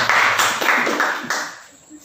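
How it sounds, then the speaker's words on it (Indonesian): Classroom applause for a student group: a burst of many hands clapping steadily for about two seconds, fairly loud and close, tapering off toward the end. "tepuk tangan untuk kelompok 2 ya"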